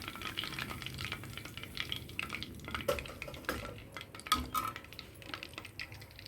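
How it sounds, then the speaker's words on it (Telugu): Steady sizzling of chicken 65 pieces frying in hot oil, with occasional clinks and scrapes of a utensil stirring in the pan. "ఇలా తక్కువ తక్కువ వేసుకుని వేయించుకోవాలన్నమాట"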